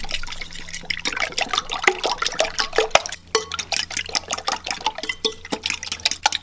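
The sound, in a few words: mixing cracked eggs seasoned with fish sauce and black pepper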